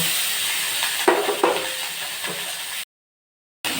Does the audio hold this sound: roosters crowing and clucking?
no